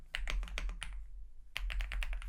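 Python code being typed on a computer keyboard, quick bursts of close key clicks, a brief pause, then another fast run of keystrokes.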